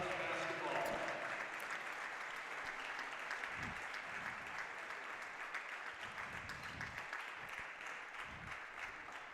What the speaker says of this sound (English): getting a big applause as well from the crowd